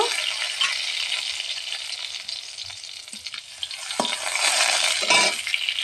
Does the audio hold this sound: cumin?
yes